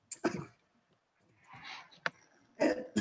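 Several harsh coughs and throat clearings in separate bursts with short pauses between them, close and fairly loud.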